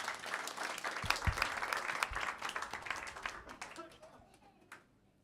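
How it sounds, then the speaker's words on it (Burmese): A church congregation at a Zomi Adventist service breaks into dense applause to welcome a group song. The clapping holds strong for a few seconds, then thins out and fades to a few scattered last claps. "လက်ခုပ်တင်းနဲ့ကြိုဆိုကြရအောင်"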